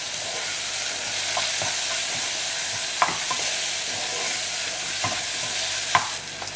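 Masala of turmeric, garam masala and chili powder with tomatoes is stirred in a pan for Goan-style fenugreek bhaji, giving a steady soft sizzle with a few sharp spoon scrapes and taps scattered through, close and fairly quiet.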